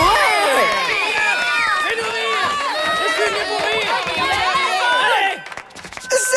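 An audience at a comedy show cheers and claps for a young comedian. Dense, loud crowd noise with shouts and chatter holds steady, then drops away near the end.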